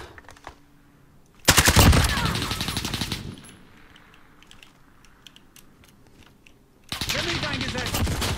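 Automatic gunfire in Modern Warfare during a hardcore Domination match on the Atlas Superstore map: two loud, close, sustained bursts of rapid shots separated by a quieter stretch of faint ambient game noise.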